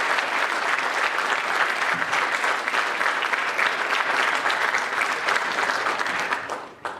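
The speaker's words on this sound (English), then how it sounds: "I think we owe all 8 of these student athletes a huge round of applause" Sustained audience applause at a high school sports signing ceremony honoring student athletes, a dense steady wash of clapping from a crowd that holds for several seconds before tapering off near the end.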